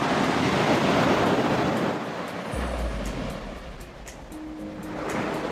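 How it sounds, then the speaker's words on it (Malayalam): Sea surf rolling in at Gotheeswaram Beach in Kozhikode, a steady broad wash of breaking waves with wind buffeting the microphone, continuous and fairly loud with no voices. "ഇതാണ് നമ്മുടെ ബീച്ച്."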